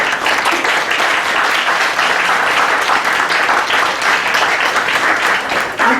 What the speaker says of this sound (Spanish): A ella le voy a pedir que le demos un fuerte aplauso